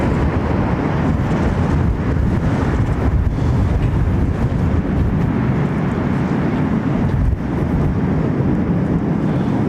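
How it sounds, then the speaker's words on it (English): Strong crosswind at Heathrow Airport buffets the microphone, producing a continuous loud rumbling roar of wind noise with no pauses and no voices. "still a noticeable crosswind"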